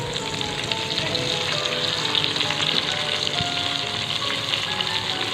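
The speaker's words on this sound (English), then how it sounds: "Saute until all the ingredients turn soft." Chopped sorrel leaves sauté in a pan for a kadaiyal, giving a steady, continuous sizzle with faint crackles that runs unbroken and fairly close throughout.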